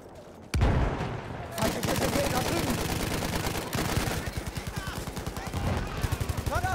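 Sentry machine gun fire in Battlefield 1 rips out in a loud, sustained automatic burst with rapid repeated shots, continuing almost unbroken after a brief quiet start, with a voice speaking faintly underneath.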